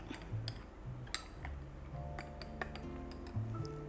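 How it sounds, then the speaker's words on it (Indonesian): A spoon stirs double ristretto coffee in a glass, giving quiet, light clinks and ticks scattered irregularly over a low steady hum. "Aduk dulu."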